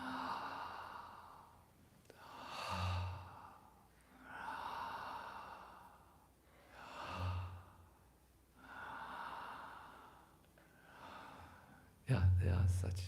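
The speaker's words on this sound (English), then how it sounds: "Some devotees do like this when they breathe in." Slow, audible breathing: long breaths drawn in and let out in a steady rhythm, close and soft, as a meditation demonstration by a voice that chants between breaths.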